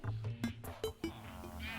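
Sheep in the video game Terraria bleat several times in quick succession, each short, clear and close, with a steady game background underneath.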